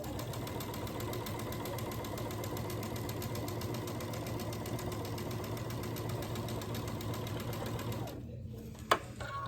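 A sewing machine hums steadily as it stitches over a quilt block seam, its needle tapping in a fast even rhythm before stopping abruptly near the end with a single click.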